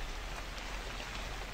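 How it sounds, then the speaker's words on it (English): Steady, dense rainfall in a haunted convenience store video game (Yakin Jiken), a loud continuous hiss of drops on surfaces with no voices. "Sounds like it's raining."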